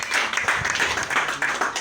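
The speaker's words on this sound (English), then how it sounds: "Clap for Master Jesus." A church congregation claps during a sermon, a lively, fairly loud burst of many hands in a steady run, with a few voices calling out beneath it.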